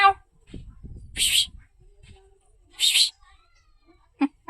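A pet cat meows twice, two clear, fairly loud calls about a second and a half apart, with low voices and rustling around them and a short sharp sound at the end.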